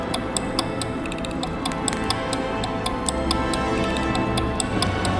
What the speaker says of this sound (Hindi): उसकी टिक टिक वो तेज हो गई, अनियमित हो गई।